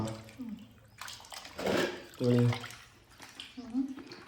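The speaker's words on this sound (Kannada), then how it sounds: "ಫಸ್ಟ್ ಇವಾಗ ಚಿಕನ್ ತೊಳ್ಕೊತಾರೆ ನಮ್ಮಮ್ಮ." Raw chicken is rinsed under a running kitchen tap, water splashing in bursts with a few short clatters, while people talk over it.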